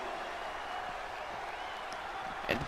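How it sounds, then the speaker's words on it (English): A WWE 2K20 wrestling arena crowd roars steadily in the background, a broad wash of cheering with a brief sharp spike near the end. "And the crowd seems alive again."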